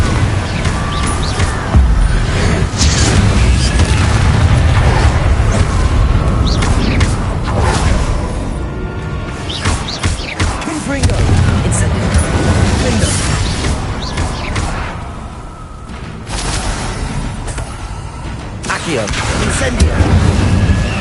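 Fiery Confringo and Incendio spell explosions in Hogwarts Legacy, a dense run of loud booms, crashes and whooshes layered under a voice calling out spells.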